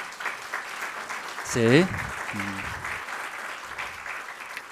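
Church congregation at a Sunday service applauding to welcome a first-time newcomer, a steady broad patter of clapping throughout, with a brief spoken word and a voice rising over it midway.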